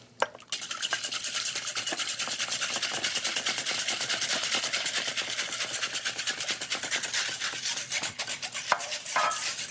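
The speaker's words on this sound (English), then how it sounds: "1 3/4 cups of whole milk. And whisk that in." Whole milk being whisked by hand into pancake batter in a bowl, a steady rapid scraping and sloshing rhythm that runs close and loud for the whole stretch, with no talking.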